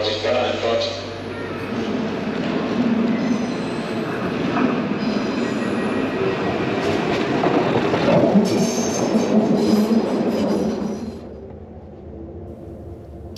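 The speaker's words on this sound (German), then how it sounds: "Caution, the train is arriving." Train pulling into a station, a loud rumbling rush with squealing wheels and rail clatter building over several seconds before dropping away, with a station announcement voice heard over it.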